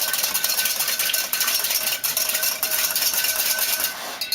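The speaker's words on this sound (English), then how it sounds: "I'm going to whisk these together" Buttermilk and egg being whisked together in a mixing bowl, a steady, dense scraping swish that runs without pause for several seconds, close and fairly loud, with no voices.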